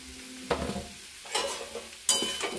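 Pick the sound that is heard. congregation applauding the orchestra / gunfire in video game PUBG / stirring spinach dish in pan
stirring spinach dish in pan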